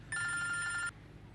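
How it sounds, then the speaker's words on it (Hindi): Single burst of a landline telephone ringing indoors, a bright electronic trill lasting under a second before quiet room tone, in a Pakistani family drama scene. "मैं फोन उठा के देखूं?"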